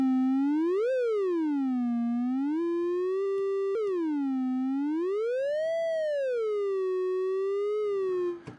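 Synth tones from an Orbitones Sha# Bang module driven by two particles: one continuous, steady-volume tone that glides smoothly up and down in slow waves, with brief steps between sweeps, heard alone and cut off abruptly at the end.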